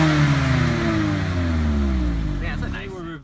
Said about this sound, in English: Rev the Miata MX5.